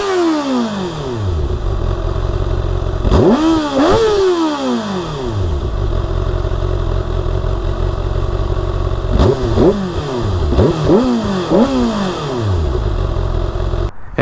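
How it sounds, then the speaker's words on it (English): Kawasaki ZX6R sport bike on its stock exhaust, idling then revved in two sharp throttle blips and later a quick cluster of rising and falling revs, loud and close with no talk. "Here's with the stock exhaust."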